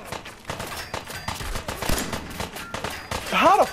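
Gunfire striking the player character in Fallout 4 survival mode, a dense run of sharp shots and impacts crackling steadily throughout, with a louder burst near the end.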